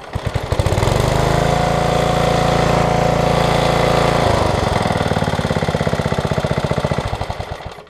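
Briggs & Stratton 5 hp engine on a Craftsman tiller starting up and running loud and close, with a rough rhythmic chug that shifts pitch midway, then sputters and slows toward the end.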